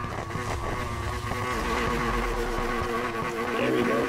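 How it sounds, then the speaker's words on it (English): Loud car engine drifting in the video game Need for Speed Heat, a steady roaring drone with shifting revving tones throughout, no voices. "It has a very loud engine considering."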